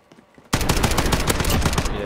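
Sudden loud, rapid automatic gunfire in Call of Duty Warzone bursts in after a quiet moment and keeps up a dense, close rattle of shots to the end.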